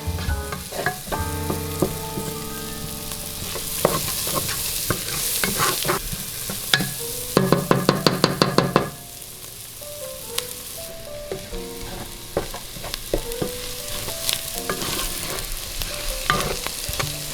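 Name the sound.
onions and bacon frying in pan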